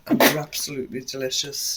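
One quick, forceful sneeze bursts out at the start, then someone immediately goes on talking.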